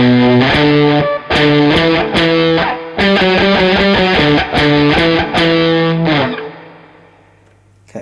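Distorted electric guitar plays a riff as a beginner's one-string, one-finger exercise, with loud, sustained, heavily effected notes in a steady repeating pattern that ring out and fade at the end.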